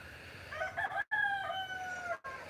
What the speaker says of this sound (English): It's even got some chickens by it.